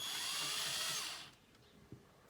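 A power drill spinning sandpaper against a metal CNC spindle at a set speed whirs steadily with a high-pitched grinding for over a second, then cuts off, leaving a quiet room with a faint knock.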